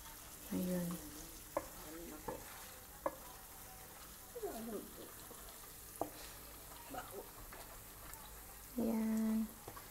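Coconut milk frying into latik in a pan, a faint continuous sizzle with soft scraping stirs and occasional clinks, while someone speaks briefly.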